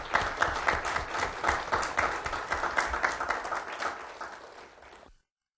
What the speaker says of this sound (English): would you just give a round of applause for all the heroes of 9/11?